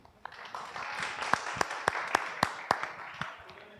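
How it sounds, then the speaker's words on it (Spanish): A church congregation claps: a short run of distinct, evenly spaced hand claps that builds briefly and then fades, a small group rather than a large crowd, with no talking over it. "Un aplauso para ustedes."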